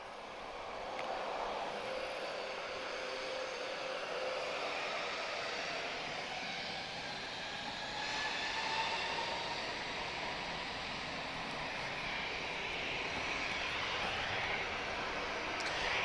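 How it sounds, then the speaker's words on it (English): A C-130J Super Hercules, the second-generation four-propeller transport, drones steadily at Lisbon Airport, a broad continuous roar holding level throughout with a faint swell partway through and no talking. "this is the 2nd generation C-130, so known as the Super Hercules"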